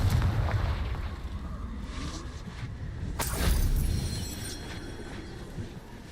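A Confringo blasting spell in the Hogwarts Legacy video game goes off as a booming explosion with a rumbling burst, loud over a noisy game soundtrack.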